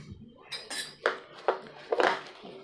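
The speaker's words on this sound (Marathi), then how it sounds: "आणि हे एकदम मस्त मिक्स करून घ्यायचं आहे." A spoon mixing kulfi faluda syrup in a bowl makes a handful of close, light clinks and scrapes against the dish, spaced irregularly over a quiet background.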